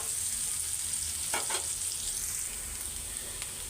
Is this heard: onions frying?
yes